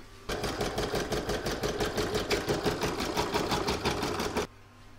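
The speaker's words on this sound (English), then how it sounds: "I'm going to pop that into my machine and stitch round one" Embroidery machine stitching an in-the-hoop crazy patch bookmark, a steady rapid mechanical stitching run of about four seconds, loud and close, stopping abruptly near the end.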